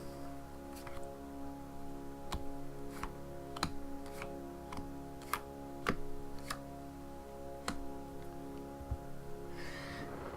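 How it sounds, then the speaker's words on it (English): Tarot cards dealt out one by one onto a table, five soft sharp slaps spaced unevenly over a steady low background hum, close and fairly faint. "we're going to deal out 5 cards"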